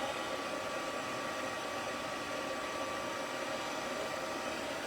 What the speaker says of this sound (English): So now I'm going to heat emboss this